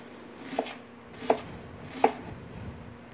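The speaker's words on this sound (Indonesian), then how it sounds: "Kemudian kita rajang bawang" A knife chops an onion on a board with three crisp, evenly spaced thuds, close and fairly quiet, while a soft hum runs underneath.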